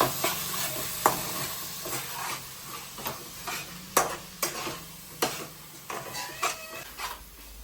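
Chilli mushroom with soy sauce and chilli sauce is stirred in a pan, a spoon scraping and clinking against the metal in irregular strokes over a steady faint sizzle, close and fairly loud, with no talk.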